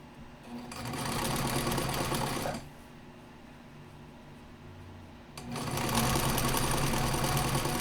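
A sewing machine stitching an invisible zipper into a skirt, running in two loud close bursts of rapid rhythmic stitching separated by a quieter pause of a few seconds.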